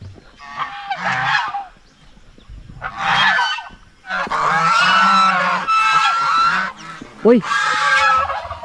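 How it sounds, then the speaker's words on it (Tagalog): Geese honk loudly in repeated harsh bursts, some overlapping into a noisy chorus, close by, with a brief exclamation from a person. "Gansa!"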